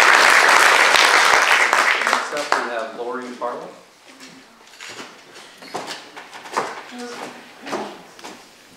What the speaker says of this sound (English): We need a round of applause for both.